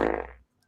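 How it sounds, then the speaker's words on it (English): A single short fart, a low buzzy rasp that starts loud and quickly trails off into silence. "That's a fart."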